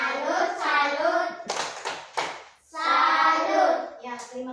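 A classroom group doing the rhythmic 'tepuk salut' clapping cheer after a group presentation, with voices chanting in unison and several sharp bursts of claps between the chants.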